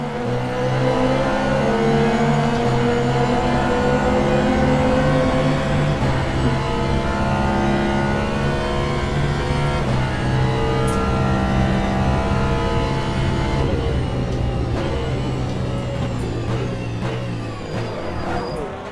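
A race car engine in the Le Mans Ultimate sim racing game revs loudly and continuously, its pitch climbing and dropping through gear changes across the whole stretch.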